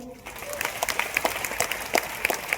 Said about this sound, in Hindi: एक बार उनके लिए तालियां बजा लो